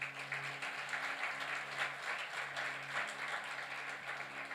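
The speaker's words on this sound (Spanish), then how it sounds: "pido un aplauso para ellos" A church congregation applauds the volunteer servers, a continuous, even roll of many hands clapping at moderate distance, with a faint hum underneath and no clear speech.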